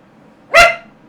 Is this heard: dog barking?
yes